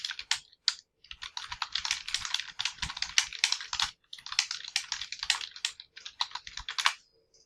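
Fingers type on a computer keyboard in quick, close bursts of crisp clicking keystrokes, pausing briefly between runs before stopping.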